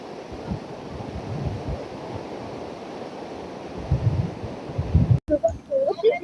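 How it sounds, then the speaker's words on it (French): Ocean waves break against the seafront Hassan II Mosque in Casablanca, a soft continuous surf roar with a few low thuds, briefly cut near the end by handling noise. "Les vagues qui tapent dans la mosquée."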